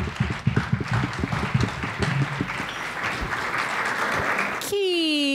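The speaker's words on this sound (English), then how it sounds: "Keep your applause for Eve Johnson." Audience applause for a performer at an open mic night, a dense crackle of clapping filling the room for several seconds before cutting to a sustained tone at the end.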